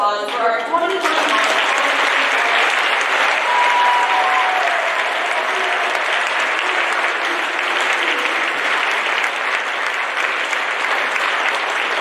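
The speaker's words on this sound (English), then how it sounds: "Let's have one more big round of applause for our 2021." A school gymnasium audience at a homecoming coronation breaks into loud, sustained applause that carries on steadily for about eleven seconds, following a brief spoken introduction at the start.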